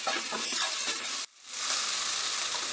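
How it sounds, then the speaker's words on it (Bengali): Roasted spice mix frying hard on a high flame gives a steady, close sizzle with stirring, cut by a sudden second-long silence before the hiss resumes just as strongly. "এই মশলাটা দেওয়ার পর আমি 1 মিনিট এটাকে হাই ফ্লেমে"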